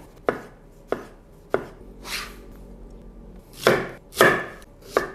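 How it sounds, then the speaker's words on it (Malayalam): A knife chopping tomato on a cutting board for a creamy chicken curry, a few sharp, distinct knocks at first, then softer, broader slicing strokes, all close and with no talking. "അടുത്തത് നമുക്ക് ടൊമാറ്റോ കട്ട് ചെയ്യാം."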